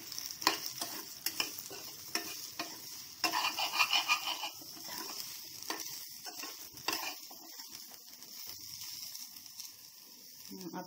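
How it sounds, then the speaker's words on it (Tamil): Shallots fry in a pan with a little coconut added, making a quiet continuous sizzle broken by stirring scrapes and taps, with faint talk over it. "சின்ன வெங்காயம் போடுறோம், அது ஃப்ரை ஆகிட்டே இருக்கும் அப்படியே."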